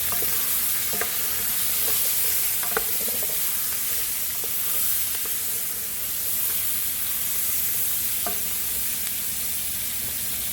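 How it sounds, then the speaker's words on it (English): Continuous sizzling and frying hiss from a hot pot while making homemade chicken broth, with occasional clicks and scrapes of stirring scattered throughout. "there's a good sizzle going on in here"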